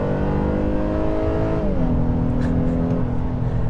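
A 3.5 liter V6 in a 2024 Honda Ridgeline Trailsport drones loudly and steadily under load from inside the cab, its engine note shifting downward midway as the revs change.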